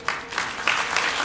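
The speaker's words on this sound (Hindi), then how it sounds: "सारे सखियां जो ताली बजा रही है," Audience of women at a Bhagavat Saptaha devotional gathering in Delhi clapping together, a steady close, dense wash of applause with rhythmic surges, no voices over it.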